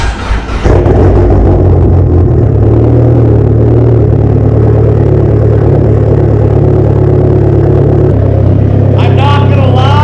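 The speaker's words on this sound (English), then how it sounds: "Let's do a cold start." A big-turbo, 430-horsepower Dodge SRT4 cold-starts with a sharp catch, then settles into a loud, steady rumbling idle with a raised hum that drops slightly near the end, close up, with no talking.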